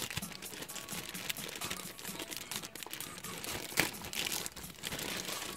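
Crinkling plastic packaging and rustling as a box holding a PRV Audio 6MB200 Pro speaker is opened, a steady close crackle with a sharper tear or crunch near the middle, no talking.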